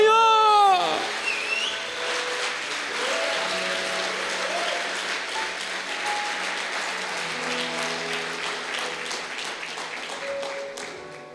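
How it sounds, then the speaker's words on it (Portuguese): A church congregation gives sustained applause in honor of the Lord, dense clapping throughout with tonal music and a few scattered voices mixed in, fading slightly toward the end. "Dê um aplauso de honra ao Senhor."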